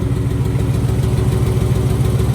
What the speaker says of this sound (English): little bit of that nice engine tick